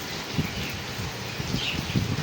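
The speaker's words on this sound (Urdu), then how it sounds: "میں تھوڑی دیر یہاں پہ بیٹھ گئی تاکہ میں خوبصورت بارش کو انجوائے کر سکوں" Steady rain falls in Islamabad, a dense, even hiss with soft patters of drops on surfaces, continuous and fairly close, with no voices.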